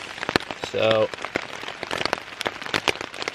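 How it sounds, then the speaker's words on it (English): Rain patters on a tarp in the woods at a wilderness campsite, a dense crackle of close drops with sharper individual hits throughout, while a person speaks briefly early on. "it's just been raining and raining"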